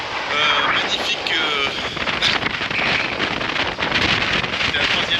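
Strong wind roars continuously across the microphone while sailing solo on the Mediterranean off Kassiopi, Greece, with faint splashing of water beneath the steady gusting blast.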